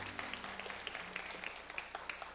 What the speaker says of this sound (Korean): 영광의 박수 올립시다.